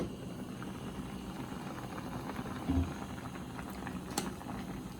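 Tomato soup boiling in a covered pot on high heat gives a faint, steady bubbling simmer with a low rumble and a couple of small clicks, no talking.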